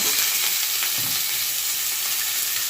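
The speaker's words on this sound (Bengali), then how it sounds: "এবারে এই বিটগুলো একটু আলুর সাথে ভাজা ভাজা করে নেবো" Beetroot pieces frying with potatoes in a pan give off a steady, loud hiss and crackle of hot oil, continuous and close, with faint scraping at moments.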